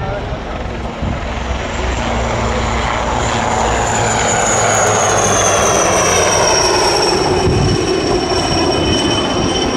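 A helicopter engine drones loudly and steadily throughout, its pitch shifting slightly as it banks past nearby.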